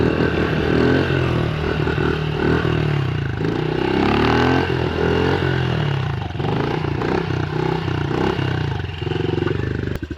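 Honda CRF110 dirt bike engine running close by, a loud continuous buzzing drone with shifting revs and some clatter for about ten seconds.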